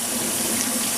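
Hot water runs from a kitchen tap while onions are rinsed under it, a brief steady hiss of flowing water, close and fairly loud, with no talk.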